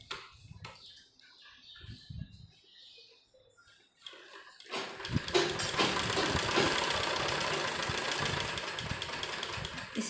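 A sewing machine stitches a bell sleeve, starting after about four seconds of quiet handling noises and then running as a steady, loud, close mechanical rattle to the end.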